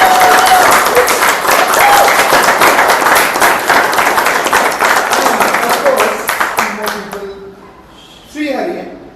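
Audience at a community speaking meeting applauding, dense sustained clapping that gradually thins out and fades, followed by a brief burst of voices near the end.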